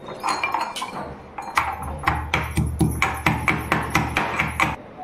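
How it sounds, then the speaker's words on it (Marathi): Green chillies are pounded with a pestle in a mortar, a close series of sharp, regular knocks that start sparse and then settle into a steady beat. "मिरची आपण ठेचून घेऊ."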